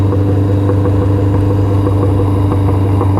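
A motorcycle idles loudly nearby, a steady deep throbbing engine note with a constant low rumble and no speech.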